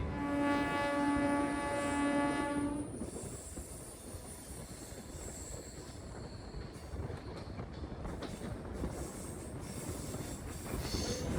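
Purulia–Howrah MEMU train on its inaugural run via Bankura, heard from on board: a sustained horn-like tone at the start gives way to a steady, loud rumble of wheels on rails with faint squeals, and no one speaks.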